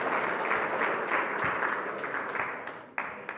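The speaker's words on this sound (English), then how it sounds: "One more round of applause for CJ making real-world Bitcoin applications." Audience applause at a Bitcoin conference in Naples, a dense patter of clapping that gradually thins and fades, with a few isolated claps near the end.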